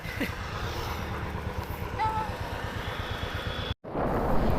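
A motorbike rides along a road in Bongaigaon, its engine a steady, close droning hum heard from the pillion seat, with wind noise and one brief dropout near the end.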